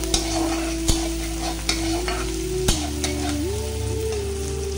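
Onions frying in a pan for a banana-peel curry, a steady close sizzle broken by several sharp scrapes and clanks of the stirring spoon, with a low hum running underneath.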